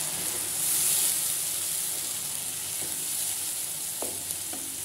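Tomato puree sizzles and fries steadily in a hot pan while cooking dhaba-style dal makhani, a continuous close hiss with a few sharp stirring clicks, no voices.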